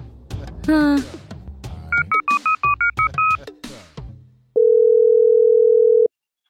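A short rapid series of keypad dialing tones, then a steady continuous telephone tone that holds for a second and a half before cutting off.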